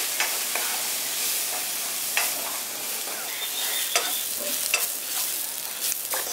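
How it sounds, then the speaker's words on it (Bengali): Semolina being stirred into a chicken and vegetable cutlet mixture in a pan, giving a steady sizzle with scraping spoon strokes at irregular intervals, close and moderately loud, with no talking. "সুজিটা দিয়েও মিশিয়ে নিচ্ছি"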